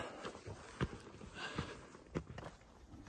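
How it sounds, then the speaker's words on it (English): Horses walking somewhere ahead on the Pacific Crest Trail in Washington, their hoof thuds spaced out and fairly faint under outdoor wind and trail ambience. "There's some horses up in front of us."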